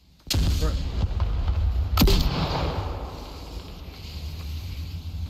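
A grenade goes off in a Counter-Strike match with a sudden loud bang. Rumbling noise follows, then a second sharp blast about two seconds later, both close and booming.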